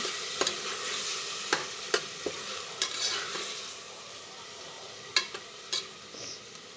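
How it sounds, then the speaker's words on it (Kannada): Four finely chopped tomatoes fry in a pan for tomato bath, a spoon stirring in scattered scraping taps over a soft, steady sizzle, close but fairly quiet, with no voices. "ಇದು ಕೂಡ ಸ್ವಲ್ಪ ಚೆನ್ನಾಗಿ ಫ್ರೈ ಮಾಡ್ತಿರ್ಬೇಕು"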